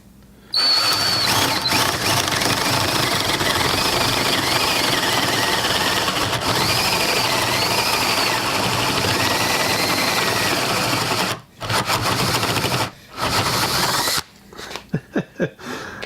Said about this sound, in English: we're just going to carefully drill into it